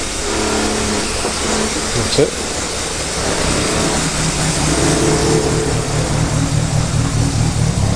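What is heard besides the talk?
classic car engine revving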